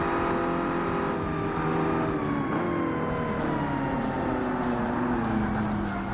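A Corvette race car in the video game Forza Motorsport roars continuously at high revs, its engine pitch sliding down and rising again with gear changes, loud and close for the whole stretch.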